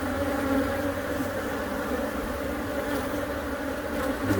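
Honey bees in a hive, found during a bee removal with many queen cells, make a dense, steady buzzing drone that fills the whole stretch without a break. No one speaks.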